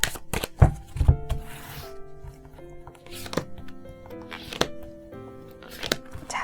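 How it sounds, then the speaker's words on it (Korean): Osho Zen tarot cards are shuffled and drawn by hand, with quick papery riffles and soft slaps and taps against a table, close and fairly quiet, over faint background music. "그리고 오쇼젠 카드도 3장 뽑아보도록 하겠습니다."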